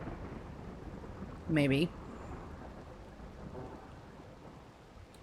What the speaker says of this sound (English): It's a rainy thunderstorm, so that should be okay.